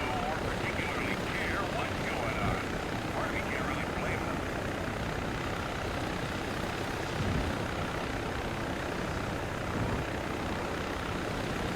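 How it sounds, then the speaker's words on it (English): An Mi-8 helicopter flies in the Arma 3 military game, a steady broadband rotor and engine roar holding at constant level throughout, with voices faintly over it. "Got another helo moving out."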